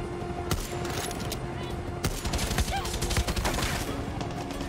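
Rapid gunfire in Far Cry 6 as a player shoots at a pilot: dense, sharp bursts of shots come steadily and fairly close, growing busier in the second half, with faint talk underneath.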